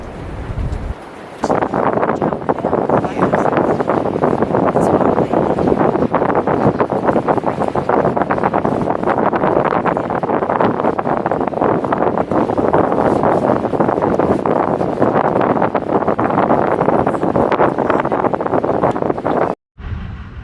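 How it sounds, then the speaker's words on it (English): Loud, steady wind roars and buffets the microphone without a break for the whole stretch near Callicoon, New York, with no voices. "It's very windy here."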